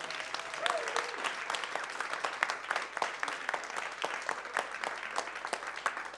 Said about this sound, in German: Einen noch viel größeren Applaus für das Check-in-Team.